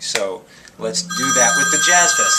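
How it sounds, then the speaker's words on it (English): A telephone rings with an incoming call, a bright, sustained electronic tone that comes in partway through and continues under a man's close, loud talking. "That's a phone call."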